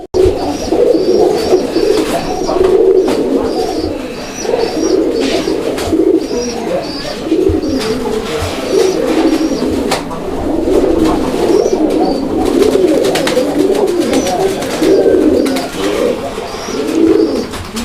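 A male and female pair of domestic Raj-golla pigeons coo close by in repeated throaty bursts, loud and rhythmic, one call following another with little pause.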